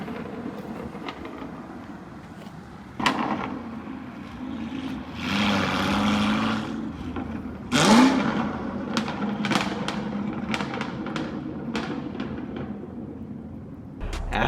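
A 2017 Camaro SS fitted with Kooks headers and a tune rumbles loudly and close, swelling into strong revs with sharp bursts, then settles into a rough idle spiked with crackling pops.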